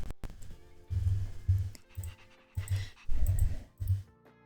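A dog in the Honkai Star Rail video game pants in rhythmic, close breathy puffs, repeating steadily with short pauses between bursts.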